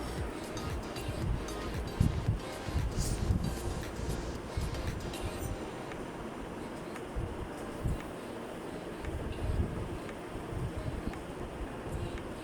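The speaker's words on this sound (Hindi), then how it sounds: "चम्मच चलाकर इसका पानी ड्राई करेंगे" Beef namkeen gosht cooking in a pot as a spoon stirs it to dry off the liquid, giving a steady soft sizzle and bubbling with occasional scraping and clattering, faint and continuous.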